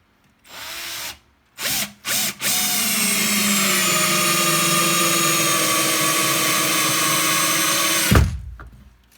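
A Parkside Performance brushless cordless screwdriver, the PABSP 20-Li A1, drives a PZ3 screw with a PZ3 bit. Two short motor bursts come first, then a loud sustained whine of about six seconds that ends abruptly with a clunk.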